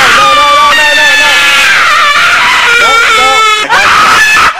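Scream in the horror video game Slendytubbies: a loud, sustained, wavering shriek with shifting pitch that fills the whole stretch, close and harsh, with a brief dip near the end.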